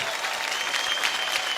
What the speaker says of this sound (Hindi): एक बार जोरदार तालियां हो जाएं आलिया भट्ट की इस खूबसूरत परफॉर्मेंस के लिए।